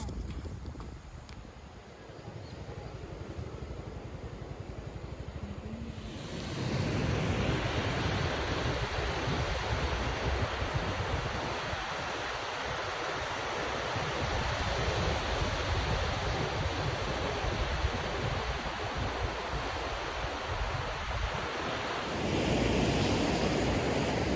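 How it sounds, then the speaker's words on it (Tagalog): Surf pounds White Beach in Batanes while strong wind roars across the microphone, a loud continuous rush of waves and gusts with no break. "Grabe yung alon dito guys at ang lakas ng hangin."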